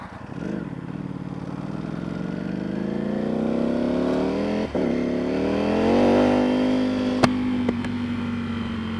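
Ducati V4R motorcycle engine with quick shift and auto blip, running close and steady, its pitch rising through revs with a brief dip and crisp clicks near the end.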